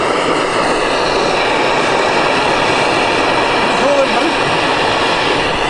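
Isobutane camping stove burner going at full power, a loud, steady broadband roar like a jet, close to the mic and continuous throughout.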